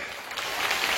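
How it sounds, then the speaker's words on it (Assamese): A crowd at an election campaign rally in Dudhnoi breaks into applause, a brief burst of dense clapping that grows slightly louder over one second. "একেবাৰে ডাঙৰ হাত চাপৰি"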